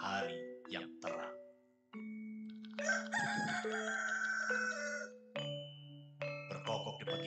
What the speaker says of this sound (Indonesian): Berkokok di pagi hari